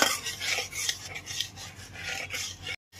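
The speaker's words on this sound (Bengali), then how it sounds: "দইটাকে খুব ভালো করে ফেটিয়ে নিয়ে গ্যাসের ফ্লেমটা লোতে রেখেই টক দইটাকে খুব ভালো করে কষিয়ে নিতে হবে" Sour yogurt being stirred and cooked down in a pan over low flame, rapid raspy scraping strokes of a spoon against the pan in a continuous rhythm, close and fairly loud, then a sudden cut to silence at the end.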